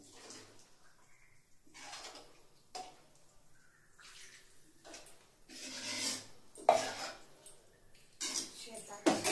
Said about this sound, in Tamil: கூட நம்ம சாமான்லாம் கழுவிடுவோம்.